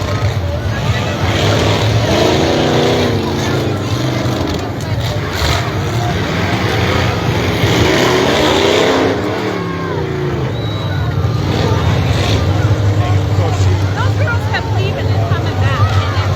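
Full-size trucks racing in a figure 8 heat, engines roaring and swelling as they pass around the track, close and loud, with crowd noise and an announcer talking over it.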